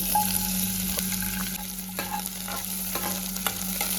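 Capsicum frying in hot oil in a pan, a steady near sizzle with occasional stirring scrapes and clicks, no talking.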